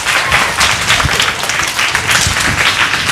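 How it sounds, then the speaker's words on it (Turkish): An audience at a primary school scouting event applauds as a scout leader is welcomed on stage, giving a continuous, dense, fairly loud roar of clapping from many hands. "İşte şimdi size Diyarbakır izci lideri Cevdet Yokuş'u alkışlarınızla çağırıyorum."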